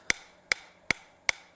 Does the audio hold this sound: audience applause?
no